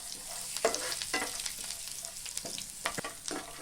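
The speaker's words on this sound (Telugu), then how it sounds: "మనం తీసి పెట్టుకున్న ఎండు కొబ్బరి, జీడిపప్పు ముక్కలు, వీటన్నిటిని దోరగా వేయించుకోవాలి." Garlic, dried coconut and cashew pieces fry in a pan for a puffed-rice mixture, with a busy close sizzle and the scrape of stirring coming in short bursts.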